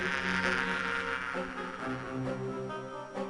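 Bees buzz in the Discworld II video game, a continuous close droning hum that stays steady and fairly loud over a few seconds with no voices.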